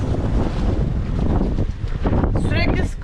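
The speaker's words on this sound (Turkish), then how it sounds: "Ama şimdi bir squall'a yakalandık." Squall wind buffets a sailboat running under mainsail alone at sea, loud gusty rushing and microphone wind noise throughout. A voice speaks over it.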